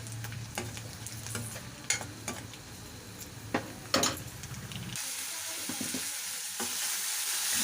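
Tempering spices, garlic, curry leaves and green chillies fry in hot oil for a vegetable curry with ivy gourd, a close, steady sizzle broken by sharp stirring clinks, turning to a brighter, hissing fry partway through.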